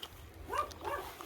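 A dog barks near a house, a faint, brief pair of short barks heard at a distance over quiet background hum.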